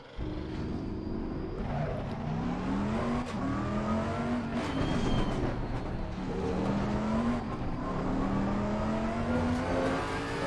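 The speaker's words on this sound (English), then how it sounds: "And then I will floor the throttle pretty much in the middle of the apex there." Race car engine in Assetto Corsa Competizione held at full throttle out of a corner, a loud continuous rising drone that climbs steadily in pitch through the gears, with brief dips at shifts and no talking.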